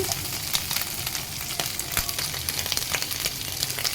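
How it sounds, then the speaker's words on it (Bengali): Shrimp sizzles steadily in a hot pan for a bitter-gourd and shrimp fry, a dense, close crackle with scattered sharper pops and no voices. "চিংড়ি মাছটা ভাজা হয়ে গেছে"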